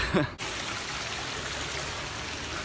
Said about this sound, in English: it was right next to this beautiful water fountain.